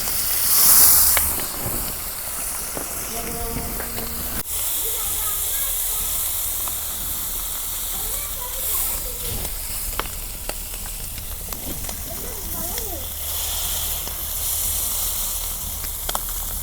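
Tilapia fish fries in hot oil in a village-style kitchen, giving a steady, close sizzling hiss that runs unbroken for about seventeen seconds with small crackles and pops.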